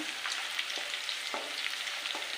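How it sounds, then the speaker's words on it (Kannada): Steady crackling sizzle of hot oil poured over mixed raw mango pickle, with small pops and spatters throughout, close up and moderately loud, no voices. "ಈ ಬಿಸಿ ಎಣ್ಣೆನೇ ನಾವು ನಾವು ಎಲ್ಲ ಮಿಕ್ಸ್ ಮಾಡ್ಕೊಂಡಿರೋಂಥ ಮಾವಿನಕಾಯಿಗೆ ಹಾಕ್ಕೊಬೇಕು"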